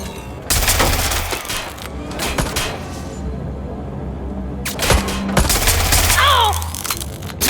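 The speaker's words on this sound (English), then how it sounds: "Shots fired!" Rapid bursts of gunfire from the video game Watch Dogs: Legion, loud and close, in two clusters separated by a quieter stretch, with a ringing whine and a faint voice in between.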